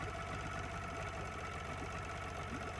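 A Mercury 70 HP outboard motor on a StarCraft boat, with a failed top ignition coil, runs rough at idle with a steady, uneven knocking throb, close and continuous with no talk.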